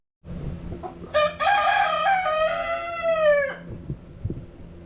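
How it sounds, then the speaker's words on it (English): A rooster crows loudly and close by, one long harmonic call lasting a couple of seconds, with a second bird's crow and clucks around it. "Wish you roosters were good for something other than screaming."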